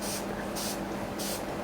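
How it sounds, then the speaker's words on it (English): Thermal water spray mists onto a makeup brush in three quick puffs of fine hiss, about half a second apart, close and fairly soft over a steady low background. "I'm going to use thermal water spray"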